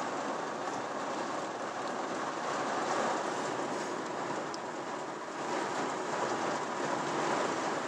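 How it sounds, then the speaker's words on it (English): Heavy rain from a severe thunderstorm beats steadily on a truck, a constant, dense roar with no distinct thunderclaps and no talking. "This is one hell of a storm right here."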